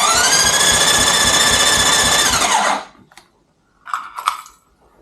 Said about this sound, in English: open the accelerator to full throttle and press the start button